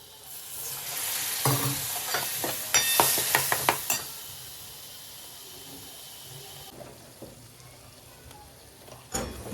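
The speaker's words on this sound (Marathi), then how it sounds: "मीठ टाकून घेतलंय आणि भाजी आहे ती त्यात टाकून चांगलं मिक्स करून घ्यायची आहे" Pav bhaji vegetables with salt and spices stirred and fried in a pan, a loud burst of sizzling with quick rhythmic scraping strokes that fades to a quieter simmer and ends with one more clatter.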